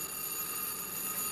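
A telephone bell rings continuously with a bright, sustained metallic trill, fairly loud and steady throughout without speech.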